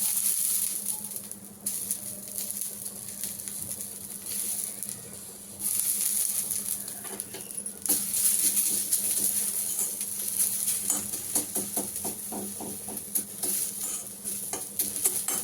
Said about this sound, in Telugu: కరివేపాకు ఇట్లా గల్లగల్ల సౌండ్ వస్తే చాలు.